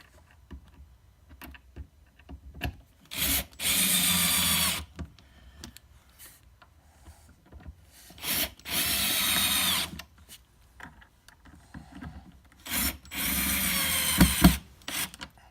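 A power drill drives screws into the wooden cabinet of a mini arcade during final assembly, whirring in three separate bursts of about a second and a half each, with quiet handling noises between them.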